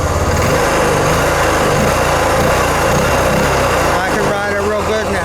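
Honda Rancher ATV engine running loud and close, a continuous buzzing drone with a steady rough pulse, slightly changing pitch near the end.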